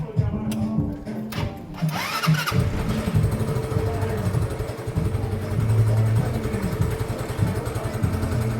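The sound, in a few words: 125cc scooter engine starting and running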